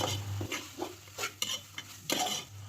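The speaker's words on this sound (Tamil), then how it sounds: "இப்போது தக்காளி நல்லா குக் ஆகிறதுக்காக கொஞ்சமாக மஞ்சள்தூள் சேர்த்து அப்படியே மிக்ஸ் பண்ணிக்கிறேன்" Tomatoes and turmeric stirred in a pan for mushroom dum biryani, with several distinct scraping strokes of a utensil against the pan over a faint sizzle, close and clear with no talking.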